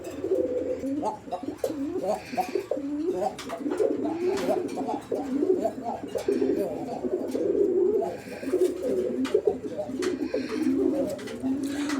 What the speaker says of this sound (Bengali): এই নটটার ডাকটা কিন্তু আমরা আপনাদেরকে দেখাই দিলাম